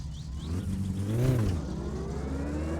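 A Satsuma car in a video game drones steadily while reversing after the handbrake is released, swells into a brief rev that rises and falls in pitch, then settles back to a steady hum.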